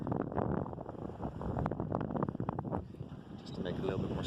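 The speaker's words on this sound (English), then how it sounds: "The wind quieted down a little bit. It's quite heavy just now." Gusty wind buffets a sailboat running with the first reef in, gusts around 20 knots; a steady broadband rush with rising and falling surges of wind noise, close and constant, under speech.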